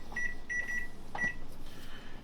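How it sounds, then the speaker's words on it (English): A kitchen timer is set during a homebrew beer boil, giving several short, high electronic beeps in quick groups over low room noise. "So let me set my timer."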